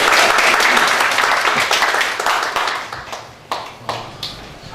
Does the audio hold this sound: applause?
yes